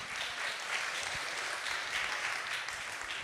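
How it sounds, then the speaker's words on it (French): An audience at a Creole dictation prize ceremony in Réunion applauds a young winner, a steady, dense clapping that fills the room at an even level throughout with no pauses. "Et on l'applaudit."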